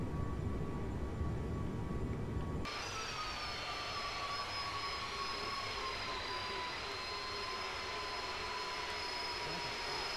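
Simulated jet airliner engine in Microsoft Flight Simulator on an ILS approach toward Glasgow Airport: a steady whining drone over a low rumble, shifting abruptly in tone partway through and holding level after.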